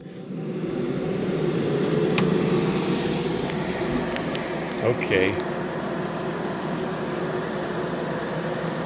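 A home-made spray booth fan runs as a steady broad whoosh with a low hum, with a few clicks and a brief voice partway through.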